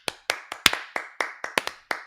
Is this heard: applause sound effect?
yes